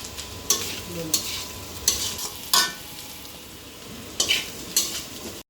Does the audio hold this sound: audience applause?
no